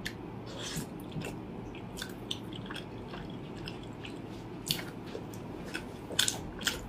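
Horn snail seafood being chewed close to the mic: soft, wet crunching and squishing bites in a quiet room, with a few sharper clicks near the end.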